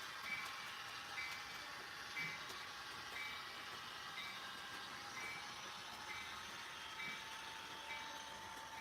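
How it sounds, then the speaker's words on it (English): A model train truck on a home layout, clicking steadily from a small bit of plastic or ballast caught in it: faint regular ticks about once a second under a continuous rolling hum. "This one's got something in the truck, so you can kind of hear it clicking."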